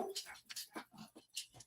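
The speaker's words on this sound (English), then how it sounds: "What are you over there barking at nothing for?" A dog named Beans lets out a quick run of soft, close yips and whimpery barks, short bursts that come in an uneven rhythm.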